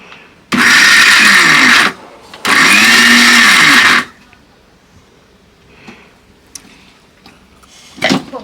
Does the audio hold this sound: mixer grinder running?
yes